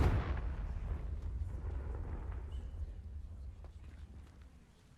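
A Confringo blasting spell explodes in Hogwarts Legacy, a loud boom at the start with a deep low rumble that slowly fades across the clip.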